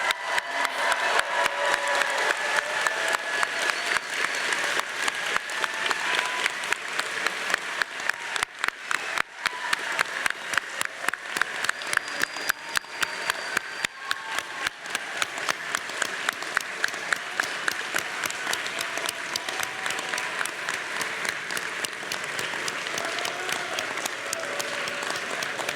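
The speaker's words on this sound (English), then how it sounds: "Can we have one more round of applause for all the graduates" Long, sustained applause for graduates at a computer science graduation ceremony, a large audience clapping steadily and densely without letup for nearly half a minute.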